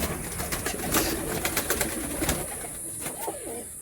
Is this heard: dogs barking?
no